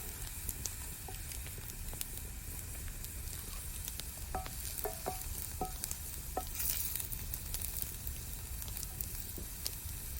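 Onions frying in a pan with curry leaves for a quick rice-flour breakfast dish, giving a steady, close sizzle throughout with occasional light stirring clinks and taps and no talking.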